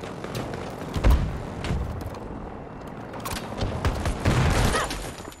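Continuous gunfire from a balanced weapon in a PS4 video game, a dense stream of shots with heavier thuds and mechanical clatter throughout, loud and unbroken.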